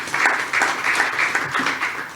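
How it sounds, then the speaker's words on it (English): Applause from the audience at a hybrid biodiversity business webinar as panelists come onto the stage, a steady patter of clapping from a modest crowd, fairly close and loud, with no talking over it. "please give all the panelists a warm round of applause when they do enter the stage"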